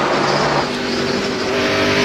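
NASCAR stock cars roar down the stretch in the 2002 Pontiac Excitement 400, a loud, dense, continuous engine drone with a car sweeping past up close.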